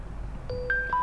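A mobile phone plays its notification for an arriving OTP text message: three clean electronic tones in quick rising succession, close and clear.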